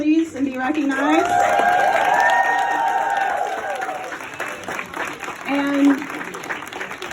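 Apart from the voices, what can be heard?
applause for the host committee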